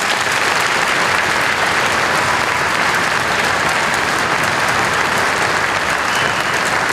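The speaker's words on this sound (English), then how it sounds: "So if we could have a hand of applause for these students." A concert audience gives a dense, sustained round of applause for high school symphony orchestra students, loud and even throughout with no talking.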